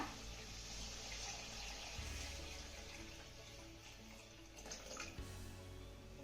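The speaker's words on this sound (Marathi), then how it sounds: "तर इथे मी दोन ग्लास पाणी यामध्ये घालतेय" Two glasses of water pour steadily into a cooking gravy for several seconds, a faint continuous splashing with a couple of small knocks.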